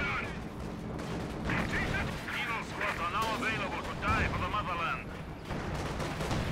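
Tank gunfire and battle noise in the Company of Heroes 2 Stalingrad campaign, repeated shots and rumbling over a steady din, with someone talking over the combat.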